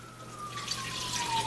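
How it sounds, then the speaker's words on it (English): Water pours into a soup pot for sopa de jamon, a brief steady rushing splash with a thin rising whine over it. "so now I'm gonna come and add my water"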